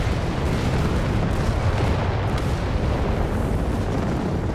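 Artillery shells exploding in the real-time strategy game Company of Heroes 3, during a battle between British and German Afrika Korps forces: a dense, continuous rumble of blasts and booms, loud and unbroken, with no talk.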